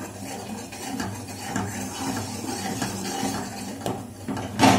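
A spoon stirring urad dal porridge batter in a pan on the stove, soft scraping and clinking strokes repeating at an uneven pace, with a louder knock at the end.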